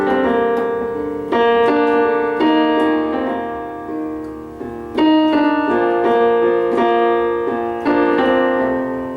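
A piano plays a slow song arrangement, sustained chords struck every second or so with single notes added in the gaps, each ringing and decaying, close and clear without talking.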